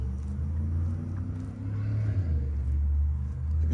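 A 2023 Dodge R/T's Hemi-powered V8 idles with a deep, steady low rumble close by, alone and even with slight swells.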